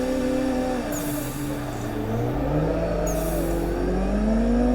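A drift car in Assetto Corsa, the driving game, accelerates hard, its engine revving and climbing in pitch through several gear changes. The sound is loud and continuous, with no talking.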